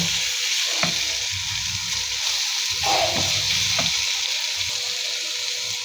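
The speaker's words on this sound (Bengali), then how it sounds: "আর কিছুক্ষণ আমি ভেজে নিব।" Radish stir-fry frying in a pan with a continuous close sizzle, broken by a few brief spatula scrapes and stirring knocks.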